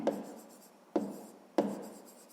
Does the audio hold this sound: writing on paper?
yes